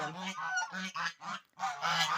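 A goose honks repeatedly at close range in -19°C frost, a rapid series of harsh nasal calls with brief gaps between them.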